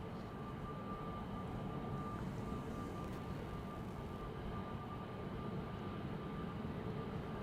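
An Airbus A320neo departing Amsterdam Schiphol Airport gives a steady, broad jet engine roar with a faint high whine, constant and fairly distant throughout, with no talk.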